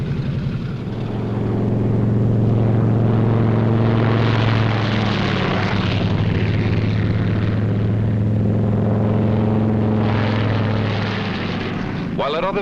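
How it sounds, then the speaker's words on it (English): World War II AAF P-38 Lightning and P-51 Mustang fighters take off, propeller engines droning loud and steady throughout with a rising, roaring pass, over a music-and-narration film soundtrack. "Expert takeoffs and landings are a point of pride with every squadron."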